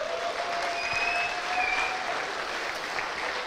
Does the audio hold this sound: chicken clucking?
no